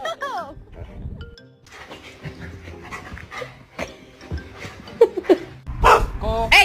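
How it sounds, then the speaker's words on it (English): A dog pants, yips and barks a few times close by, with people talking over and between the sounds. "don't you bark at me"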